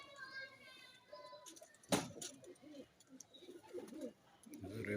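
A female pigeon coos softly in a few low, throaty bursts close by, while someone talks over and around the calls.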